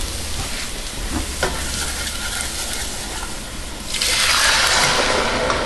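Tomatoes drop into a hot pan with browned garlic, and a loud, steady close-up sizzle swells sharply near the end as the wet pieces hit the oil.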